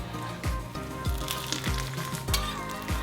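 A refried bean quesadilla sizzles and fries in a pan, a steady loud crackle with occasional scraping thumps as it is moved, close up with no talk.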